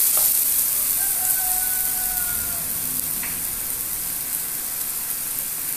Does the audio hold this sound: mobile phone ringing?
no